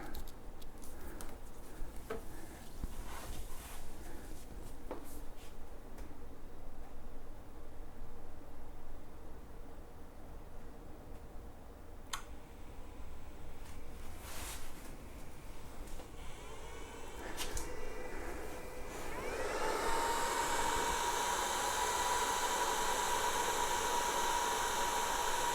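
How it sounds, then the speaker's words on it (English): An electric unicycle's charger hums quietly under faint clicks and handling noises, then a loud fan whoosh with a steady whine kicks in near the end as the current is cranked up. "All right, let's turn on the charger."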